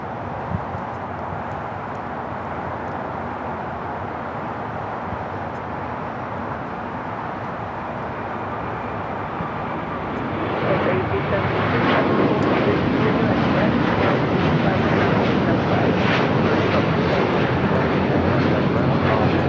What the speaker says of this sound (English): That was Qatar Airways Flight 742 taking off to Doha on the A350 1000.